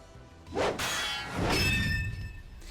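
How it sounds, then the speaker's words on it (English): Two ringing metallic clangs of steel blades striking in the video game Hakuoki, each swelling with a whooshing impact and a shimmering, bright resonance that lingers. "The sound of steel and steel rang out across the compound."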